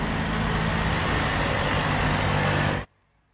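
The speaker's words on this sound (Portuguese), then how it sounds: "eu vou colocar aqui um ruidinho de fundo, aquele normal aí de carro trafegando na via" Steady car traffic noise from vehicles passing on a road, played as background to test a Baseus Bowie H1 headphone's noise cancelling. It is a dense, continuous roar that stays loud and even, then cuts off abruptly near the end.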